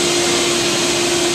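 A vacuum cleaner sucks mold off wooden joists, a loud, steady, close roar with a constant whine running through it and no voices.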